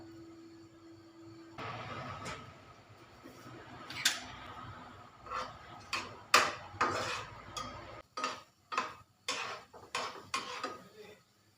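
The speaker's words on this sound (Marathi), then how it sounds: "काजू तळून घेऊया त्यामध्ये मी पुन्हा एक चमचा तूप घालणार आहे" Cashews fried in ghee in a pan, heard as a soft sizzle under repeated metal spoon scrapes and clinks against the pan, growing into a steady rhythmic stirring.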